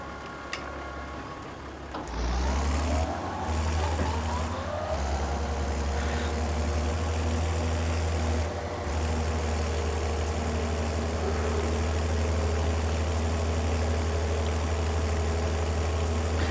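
A tractor engine in Farming Simulator 22 drives across grassland, starting quietly, then revving up after about two seconds into a loud, steady drone that holds without a break.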